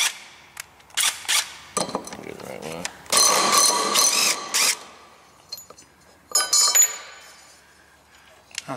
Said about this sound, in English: we're just going to take this bolt out and put that washer